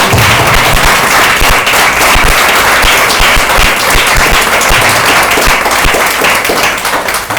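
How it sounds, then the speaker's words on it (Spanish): A church congregation gives a loud, vigorous round of applause, many hands clapping hard in a thick continuous roar that fills the space from start to finish. "Dale otro aplauso fuerte a Él."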